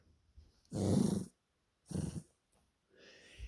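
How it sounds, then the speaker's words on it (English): A dog on a farm lets out low rumbling growls in two separate bursts, close to the listener, followed by a short snort, with quiet pauses between. "She's growling."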